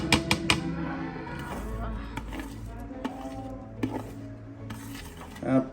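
A metal spoon scrapes and clanks around a heavy pot as a thick beef biryani mixture with fried onions is stirred, with someone talking over the steady kitchen sounds.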